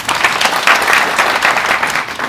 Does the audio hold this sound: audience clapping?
yes